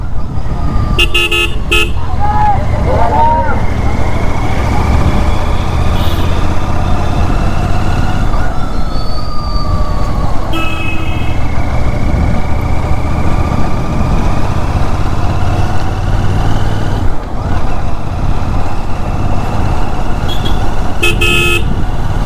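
A Continental GT 650 motorcycle ridden in low gear through congested road traffic drones steadily and loudly throughout, while nearby car horns toot in short bursts and other vehicles pass.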